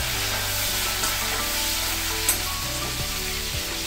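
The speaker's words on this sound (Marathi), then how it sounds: "तेलामध्ये कोथिंबीर टाकून बघा, खूप चांगला फ्लेवर येतो." Fresh coriander hitting hot oil in a home kitchen pan gives a steady, close crackling sizzle that holds for a few seconds with one brief sharper pop, and no voices are heard.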